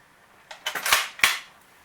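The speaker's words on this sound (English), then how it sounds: "The bolt will lock to the rear of an empty rifle." An empty SKS rifle, chambered in 7.62x39, has its bolt pulled back to lock open, giving a short cluster of sharp, close metallic clicks and clacks with quiet gaps between them.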